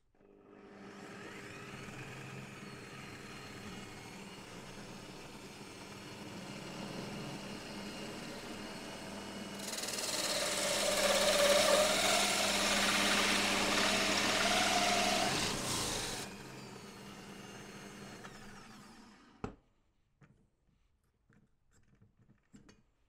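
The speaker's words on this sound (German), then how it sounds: "In der Ständerbohrmaschine habe ich jetzt hier die Lochkreissäge eingespannt" A hole saw mounted in a drill press cuts holes into pre-drilled pilot holes, giving a steady motor whir that swells into a loud, harsh grinding cut for several seconds before spinning down and stopping.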